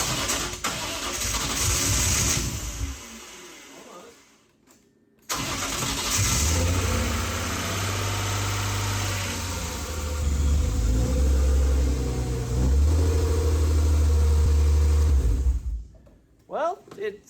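BMW E36 328ti Compact with an electrical fault being cranked and started, the engine catching after a pause and settling into a loud, rough idle with some revs, close by.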